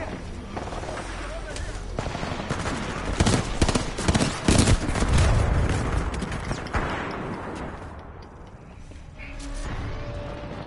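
Rapid bursts of video game gunfire in short volleys, loud and close, with a player talking over the shots throughout.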